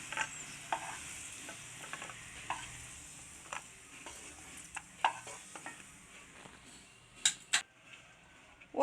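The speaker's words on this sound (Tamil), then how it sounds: "ஒரு கேரட்டை நெய்யிலேயே இதை வறுத்துக்கலாம்" Carrot frying in ghee in a pan, with soft sizzling under frequent stirring scrapes and light clinks of a utensil against the pan, a few sharper knocks near the end.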